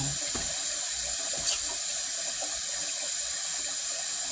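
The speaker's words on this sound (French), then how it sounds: "je suis en train de faire couler de l'eau que ça chauffe" Water running steadily from a kitchen tap to heat up, a continuous hiss and splash filling the scene with no talk over it.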